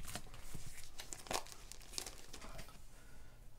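Tape is torn off the packaging of a comic book during an unboxing, giving a few close, sharp ripping and crinkling bursts over a quiet background.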